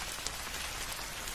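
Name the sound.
rain falling in a cartoon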